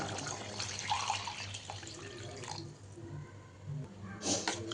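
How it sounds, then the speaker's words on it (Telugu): Water poured into a pot of chicken biryani masala, a soft splashing pour with faint clinks, fairly quiet and close, no talking. "4 గ్లాసులు వాటర్ వేసుకుందాం."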